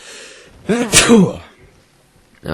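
A single sneeze bursts out close to the mic, a sharp breathy explosion with a brief vocal edge, surrounded by quiet room noise.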